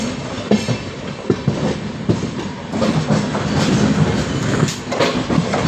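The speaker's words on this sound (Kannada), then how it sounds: "ಪ್ಲ್ಯಾಟ್ಫಾರ್ಮ್ ನಂಬರ್ 1ಗೆ ಜಾಮ್ನಗರ್ ತಿರುವನ್ವೇಲಿ ಎಕ್ಸ್ಪ್ರೆಸ್ ಬಂದಿದೆ, ವೀಕ್ಲಿ ಎಕ್ಸ್ಪ್ರೆಸ್ಸು" The Jamnagar–Tirunelveli weekly Express rolls along platform 1, its wheels clicking over rail joints in an uneven clickety-clack under a loud, continuous rumble.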